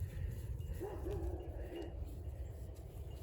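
Neighbouring dogs bark faintly in the distance near a flock of sheep, a few muffled barks set against a low outdoor rumble, with no talking.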